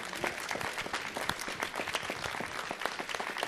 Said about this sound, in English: Let's give her a round of applause as she comes.